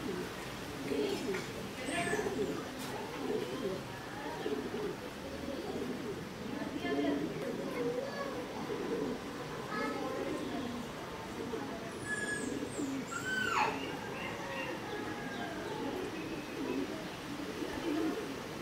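Racing pigeons coo in soft, repeated low murmurs close by, while people talk over them throughout. A few brief chirps rise above the steady chatter.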